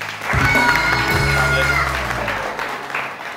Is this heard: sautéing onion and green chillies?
no